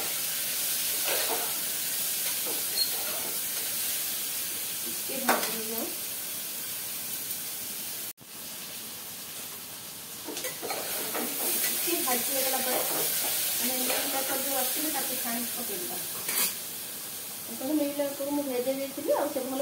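Carrot, beetroot, capsicum, pointed gourd and potato frying in a pan give a steady hiss and sizzle with occasional stirring scrapes, while someone talks over it.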